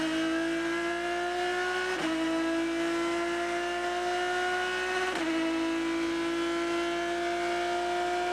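Onboard sound of the 007 Aston Martin front-engined GT race car at the 2015 Rolex 24 at Daytona, a loud steady engine drone held near constant, with two brief gear-shift dips as revs drop and climb again.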